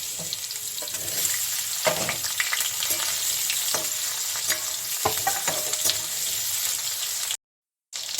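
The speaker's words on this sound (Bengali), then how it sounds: "এই তেলের মধ্যে আমি এই চোরটাকে একটু ভেজে নেব" Young jackfruit pieces frying in hot oil in a pan for a jackfruit and prawn dish, a continuous crackling sizzle with occasional spatula scrapes and a brief cut to silence near the end.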